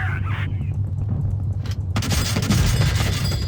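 A tank blowing up in the World of Tanks video game, with a sudden heavy blast opening into a loud, sustained crackling burst of explosions and debris, close and dense over a low rumbling engine drone.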